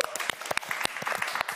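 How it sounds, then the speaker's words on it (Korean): Audience applause at a Korean television event after a call to clap for a traditional dance performance; a short burst of dense clapping with a few sharp individual claps standing out. "박수."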